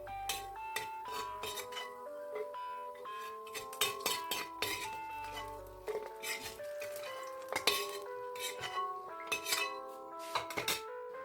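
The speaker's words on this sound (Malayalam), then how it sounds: "അണ്ടിപ്പരിപ്പ് ആദ്യമേ നമുക്കൊന്ന് വറുത്ത് ഊരിയെടുക്കാം" Cashews roast in a tablespoon of ghee in an uruli pan while a spoon clinks and scrapes against the metal in quick, irregular strokes, with a faint sizzle underneath, close and fairly quiet.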